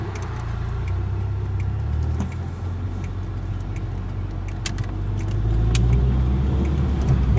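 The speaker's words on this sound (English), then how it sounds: "the exhaust that's on it is a nice blend of performance and also quietness" A 1992 Honda Prelude Si drives along a country road with its exhaust giving a steady, moderately loud low rumble that swells slightly under acceleration near the end, with no talking.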